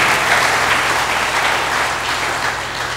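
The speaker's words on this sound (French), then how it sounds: "Est-ce qu'on ne peut pas acclamer pour ces hommes de Dieu?" A church congregation breaks into sustained, loud applause with some cheering, a dense continuous wash of clapping that holds steady and tapers slightly toward the end.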